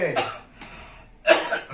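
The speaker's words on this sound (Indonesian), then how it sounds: "Batuk deh, batuk." A man recovering from a stroke coughs in a home setting, with several short harsh bursts, the loudest near the end, mixed with nearby talking.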